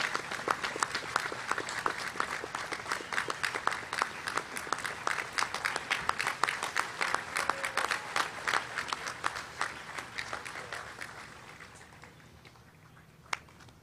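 Sustained applause from a crowd at a high school commencement ceremony, dense steady clapping that carries on for about eleven seconds before fading away, with one sharp loud clap near the end.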